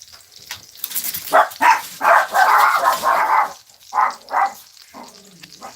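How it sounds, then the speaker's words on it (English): Several dogs bark indoors in a loud, uneven series of about eight sharp barks, near and insistent, over a steady sizzling hiss from bacon and breakfast food cooking in a kitchen. "the dogs are barking"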